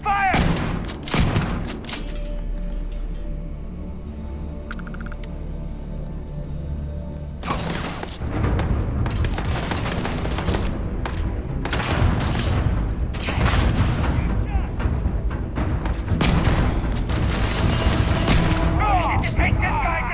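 Video game gunfire rattles in dense volleys mixed with heavy booms, near and loud, with a brief quieter lull before the shooting resumes and voices break in among the shots.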